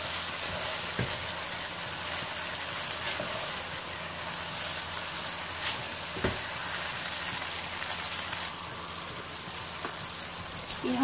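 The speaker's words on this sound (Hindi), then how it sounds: "अब हम इसमें स्पेगेटी ऐड करेंगे। मिक्स करेंगे अच्छे से।" Spaghetti is tossed in a frying pan with green onion and garlic, giving a steady soft sizzle broken by occasional clicks and scrapes as it is stirred.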